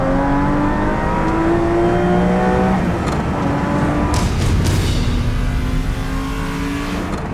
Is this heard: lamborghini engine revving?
yes